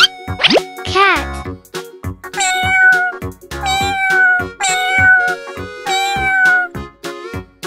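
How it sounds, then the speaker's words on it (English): A cat meows several times, loud and close, in drawn-out rising and falling cartoon-style calls, preceded by a quick sliding effect and set against playful music. "Cat."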